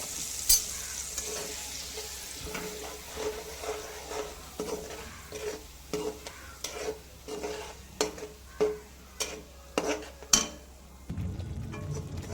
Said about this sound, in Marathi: मसाला छान भाजून घेऊयात।